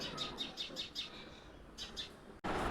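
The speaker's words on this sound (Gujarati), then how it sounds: "હમણાં જોજો ચકલી પાણી પીવા આવશે અત્યારે જોજો." A sparrow chirps near a water bowl set out for birds in a village, giving a quick run of bright, evenly spaced tweets, then a short pause and two more, fairly close and clear over faint background hiss.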